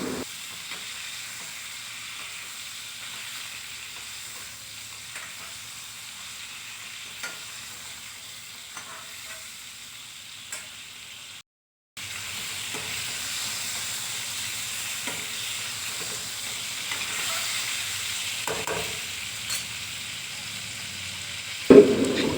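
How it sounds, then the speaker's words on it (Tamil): Brinjal pieces with salt sautéing in a pan make a soft continuous sizzle with scraping stirs, a brief silent gap midway, then the frying resumes slightly louder. "இதையும் நல்லா வந்து வதக்கி எடுத்துடலாம்."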